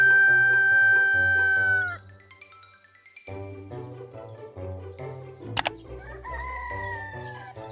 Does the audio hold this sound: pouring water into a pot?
no